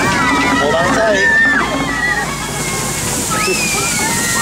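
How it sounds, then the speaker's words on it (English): Water from a geyser effect sloshes and splashes steadily around a Kilimanjaro Safaris ride vehicle at Animal Kingdom, loud and close, under a busy mix of voices and chatter. "looks like we have some geysers to get through first"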